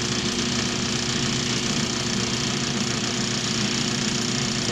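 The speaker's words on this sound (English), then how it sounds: "I put it on the leather wheel first." A motorized leather buffing wheel honing a woodcarving V-tool: a loud, steady, even motor drone with a constant hum running throughout and no pauses.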